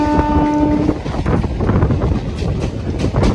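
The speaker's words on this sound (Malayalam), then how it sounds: "പതുക്കെ ട്രെയിൻ വന്ന് കരൂരിലേക്ക് കയറുന്നുണ്ട്." Nagercoil Express rolls slowly into Karur station: a loud, close rumble of wheels on rails with a steady horn-like tone at the start, rhythmic clatter and wind buffeting the microphone.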